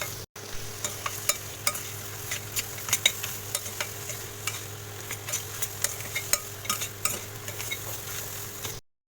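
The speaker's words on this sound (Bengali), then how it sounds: "এতে জল দেওয়ার আগে আমি ভাজা কাঁকড়াগুলো দিয়ে কাঁকড়ার সাথে মশলাগুলোকে দু একবার কষিয়ে নেব" Fried crabs are stir-fried with spice paste in a pan, a soft sizzle under frequent clinking scrapes of a spatula against metal, close and moderately quiet, no talking.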